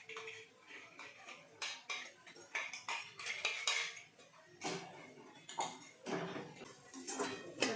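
A spoon stirs jaggery tea in a metal pot, tapping and scraping against the sides in uneven, repeated clinks, close and fairly quiet.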